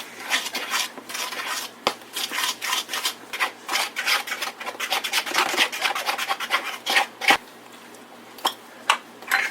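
Protein chocolate muffin batter is stirred briskly in a bowl, with repeated scraping and rubbing strokes in an uneven rhythm, close and fairly loud, with no talking.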